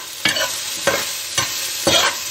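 Carrots, beans, onion, ginger and garlic frying in a pan, a steady sizzle broken by four evenly spaced bursts of stirring, close and fairly loud with no talking.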